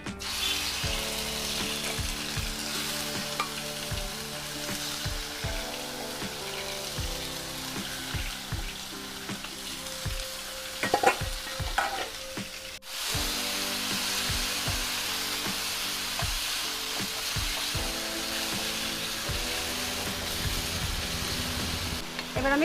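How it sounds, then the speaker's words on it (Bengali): Marinated chicken sizzles and fries steadily in a pan while being sautéed, with repeated scraping and clinking from a spatula against the metal throughout, loud and close, no talking. "আমি মাংসটা কষিয়ে নেব ভালো করে।"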